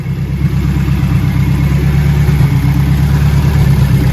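A turbocharged K24 car engine fitted with 2200cc injectors idles loudly and steadily up close, with a deep, even rumble that holds throughout.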